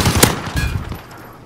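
A rapid burst of video game gunfire, several close, loud shots in quick succession within about a second, trailing off into a short echoing tail.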